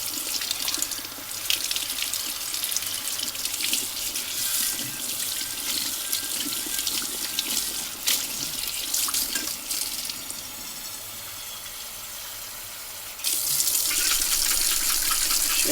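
Parts of a 1950 Coleman 220D lantern being rinsed under a running tap during a restoration: a steady, close gush of water with splashing that changes as the parts move, then a brighter, louder stream near the end, with no voices.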